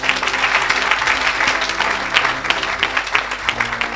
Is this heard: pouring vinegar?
no